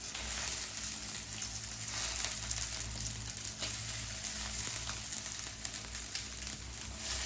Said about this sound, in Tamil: இதை வந்து இதில் போட்டு நல்லா வதக்கிக்கலாம்